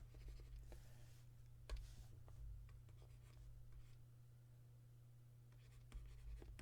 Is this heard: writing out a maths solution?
yes